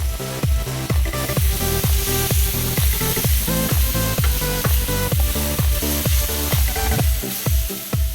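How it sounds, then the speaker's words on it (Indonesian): Spice paste sautéing in a pan with bruised lemongrass stalks and bay leaves for Betawi sayur babanci, a loud continuous sizzle broken by a regular rapid scraping or stirring rhythm throughout, close up and without talk. "di sini bumbu halusnya sudah saya tumis hingga benar-benar matang dan juga aromanya udah mulai keluar dan juga sangat harum"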